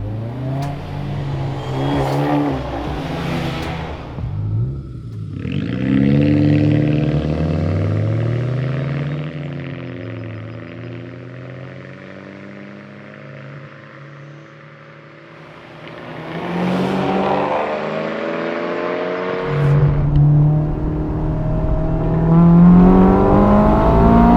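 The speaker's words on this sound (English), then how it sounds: "we'll start off with our 3-way drag race" Three roadsters, a Honda S2000, a Mazda Miata RF and an Abarth 124 Spider, drag racing, heard as loud close engine revving and accelerating through the gears, with sustained high-revving drones interrupted by shift dips and rising again.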